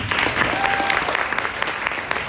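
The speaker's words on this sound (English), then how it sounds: "Everybody give her a hand clap." A conference audience applauds a speaker being introduced, a brief, dense burst of clapping with distinct sharp hand claps near the front.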